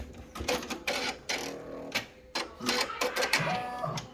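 An embroidery machine stitches across the front of a lined zipper bag, giving a quick mechanical chatter in bursts with short pauses between, close and moderately loud, with no talking.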